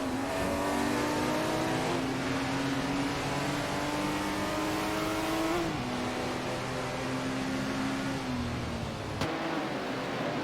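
Porsche racing car in a simulated group race, its engine holding a steady high droning rev that rises slowly, dips briefly, then climbs again, loud and continuous with no talk.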